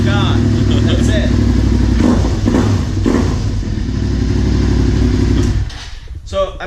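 A budget motorcycle engine runs loud and close, rumbling steadily before revving and pulling away, with a fading rattle near the end and a voice speaking over it.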